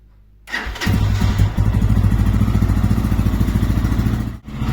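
A Lifan KPX250 motorcycle engine with a NIBBI PE28 carburetor starts in cold weather on the choke and settles into a loud, steady, throbbing idle, close up, with a brief dip near the end.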